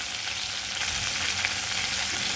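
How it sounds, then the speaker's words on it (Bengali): Cumin seeds fry in hot oil, giving a faint, steady hiss and crackle close by, with no voices. "তেলটা ভালো করে গরম হলে, জিরেটা ভালো করে একটু ভাজা ভাজা হয়ে গেলে"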